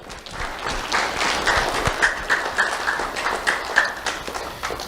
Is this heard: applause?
yes